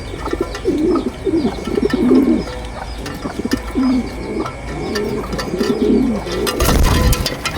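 A homing pigeon coos in repeated low throaty phrases close by, with ambient outdoor noise and a sudden flurry of wing flaps near the end as it takes off.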